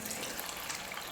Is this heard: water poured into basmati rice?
yes